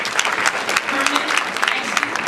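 Audience applause at a school parent recognition ceremony for honors students, a steady, dense clatter of many hands clapping that fills the room without a break.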